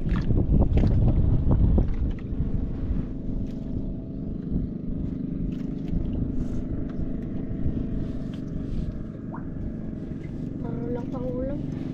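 A boat moving across open water on a windy early morning, heard as a steady low rumble beneath constant wind buffeting the microphone, louder for the first two seconds and then even. People talk over it.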